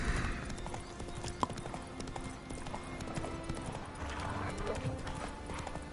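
Horse hooves clip-clopping at a trot in The Witcher 3: Wild Hunt, a steady rhythmic clatter close by over game ambience and music, with a brief whinny-like sound and some faint talk underneath.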